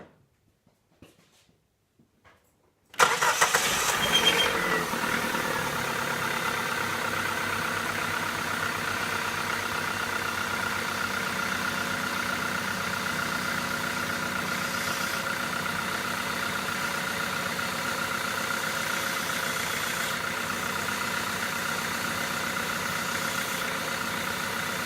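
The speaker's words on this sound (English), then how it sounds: "We'll start it up here, and it will probably make a little noise initially." A Dodge Neon engine cranks and catches after a power steering pump replacement, then settles into a steady, loud idle that runs on evenly after a few quiet seconds of silence.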